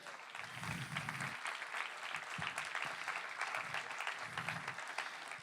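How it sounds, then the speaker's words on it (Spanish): A church congregation applauds during a Sunday sermon, the clapping soft and somewhat distant, steady with slight surges, and faint voices mixed in underneath. "Dale un aplauso, sí"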